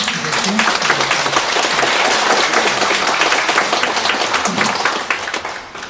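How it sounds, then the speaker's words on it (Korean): Catholic church congregation gives a round of thankful applause after a Human Rights Sunday talk, loud sustained clapping throughout that fades slightly near the end. "고마움의 박수 한번 드릴까요?"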